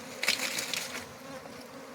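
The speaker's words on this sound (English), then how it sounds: "So the bees were kind of keep going back up to the tree." Swarm of bees heard as a brief, soft, steady outdoor buzz with no talking.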